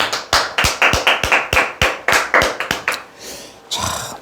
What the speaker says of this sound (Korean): 예, 박수 한번 치시죠.